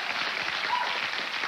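A studio audience at a 1989 television talk show applauds in a steady, dense wash of clapping that holds evenly throughout.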